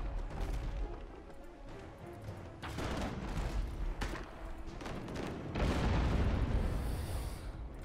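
Ship cannons fire in a naval battle in the video game Abandon Ship, set on haunted seas: repeated booming blasts and crackling fire over dense, continuous battle noise, loud and close throughout.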